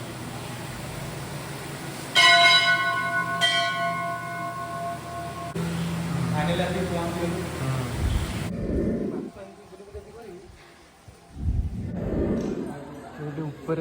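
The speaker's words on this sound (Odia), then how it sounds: "ଘଣ୍ଟି ମାର ଜଣ ଜଣ କରି।" Temple bells are struck one after another at a hilltop temple, producing bright ringing tones with lingering overtones, followed by people talking nearby and outdoor ambience.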